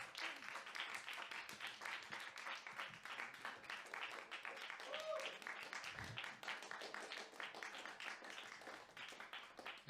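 A small audience applauds at a songwriters showcase, with dense, steady clapping that carries on for the full stretch, fairly faint and heard from a little distance, with some voices mixed in beneath.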